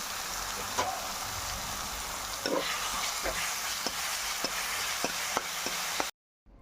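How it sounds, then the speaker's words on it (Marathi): Curry leaves with mustard seeds and cumin are sautéed with a ground spice paste for vada pav, giving a steady close sizzle punctuated by stirring scrapes and clicks before it cuts off abruptly. "त्यानंतर आपण जे वाटण वाटलं होतं ते व्यवस्थित परतून घ्यायचं आहे"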